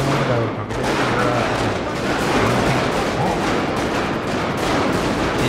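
Rapid bursts of gunfire from the video game GTA 5, loud and sustained as a dense barrage of shots with no talking over it.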